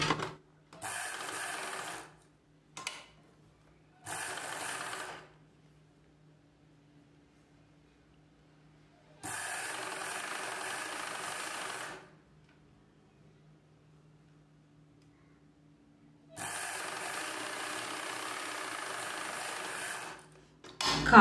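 A sewing machine stitches a folded blouse collar edge in several separate bursts of a few seconds each, with quiet gaps between, fairly soft and close.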